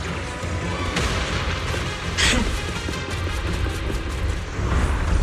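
Explosive blasts from a cocoon in the Zenless Zone Zero video game sound as dense, rumbling booms and crashes layered over continuous loud game noise, with a brief sharper burst partway through.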